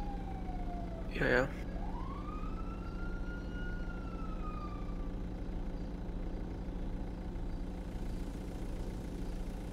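A police siren from the GTA V video game wails through a long rising and falling sweep over a steady engine idle, with a brief spoken word near the start.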